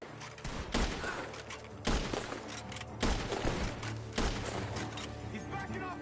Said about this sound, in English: The gunshots are coming from that farm.